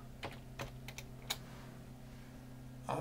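Light clicks on a computer keyboard, a handful of separate keystrokes spaced irregularly, quiet and close over a steady low hum.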